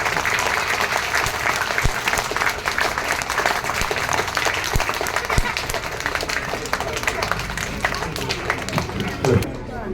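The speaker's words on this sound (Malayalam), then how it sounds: "എല്ലാ കുഞ്ഞുങ്ങളും ഒന്ന് കൈയടിച്ച് നിങ്ങൾക്ക് എല്ലാവർക്കും തരാം കേട്ടോ." Children at a Kerala school program clap together in a sustained round of applause, dense and steady for about ten seconds with crowd murmur mixed in, fading slightly at the end.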